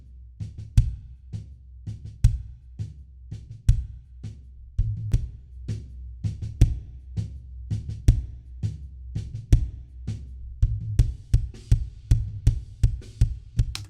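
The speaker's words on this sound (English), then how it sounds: "if you drive too hard into this compressor, it sounds like this" A drum loop pushed too hard through an Art Pro VLA III tube compressor, punchy repeated kick and snare hits that sound squashed and distorted, with a boomy low end, loud and steady with no talking.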